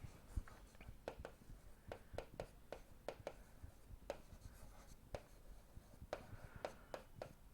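Pen or marker writing out a math definition on a surface, a string of quick scratchy strokes and taps at an uneven pace, close and fairly quiet, with no speech.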